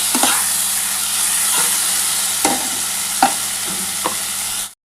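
Boiled mutton is tipped into a fried spice masala and stirred, giving a steady low sizzle and hiss with a few sharp scraping knocks of the spoon against the pan, close and with no voices.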